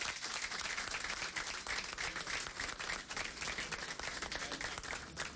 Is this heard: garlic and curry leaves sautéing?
no